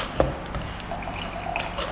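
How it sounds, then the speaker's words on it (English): Tonic water poured into a glass of espresso for an espresso tonic, a soft steady trickle and fizz with a small clink at the start, close and without talk. "Put a little bit of the tonic water."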